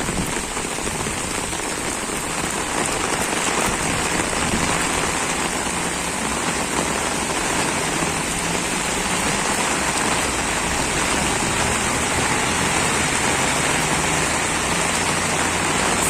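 Heavy rain pours steadily and loudly in Moscow, Russia, a dense, unbroken hiss of drops drumming on surfaces throughout, with no voices.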